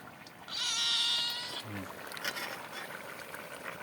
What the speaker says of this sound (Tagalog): May makulit na pusa.